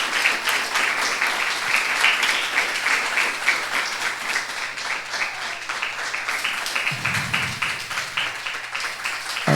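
Sustained audience applause at a book launch, a dense steady crackle of many hands clapping close by for several seconds, with a brief low rumble near the end.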